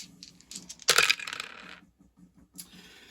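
Dice rolling in a war board game: a clattering burst of dice hitting a hard surface, tumbling and settling over about a second, followed by a few faint ticks and a last small clack.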